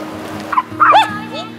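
A dog at a campground in Aso, Kyushu gives a few short, close yips and barks in quick succession, loud and brief.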